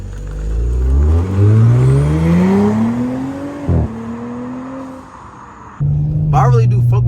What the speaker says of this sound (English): it's an S4 and you can hear the turbo. It's like a whistle